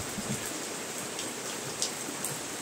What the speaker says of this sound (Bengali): অনবরত তো বৃষ্টি পড়তেছে